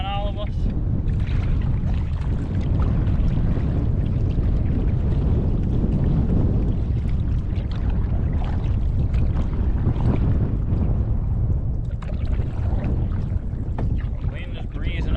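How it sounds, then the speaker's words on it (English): Strong wind buffeting the microphone on a wilderness lake during a solo canoe trip, a loud continuous roaring rumble that lasts throughout. "Wind is breezing up on me here now."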